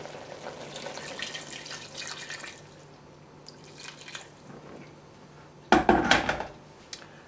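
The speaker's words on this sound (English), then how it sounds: "Now we add a little water." Water splashes from a tap into a pot of red-cooked pork belly with chestnuts, with a faint trickle at first and then a brief louder pour near the end, close by in a quiet kitchen.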